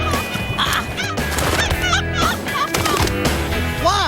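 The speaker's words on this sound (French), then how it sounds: "j'ai vu quelques poules dans le coin" Wild chickens on an island squawk and cackle frantically while being chased, with repeated sharp rising cries and flapping commotion over a busy, close-up background.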